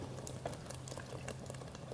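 Fish stock boiling in a pot in a kitchen, for Southern Thai rice noodles: a steady bubbling simmer with soft popping patter and a low continuous hum underneath, no talk.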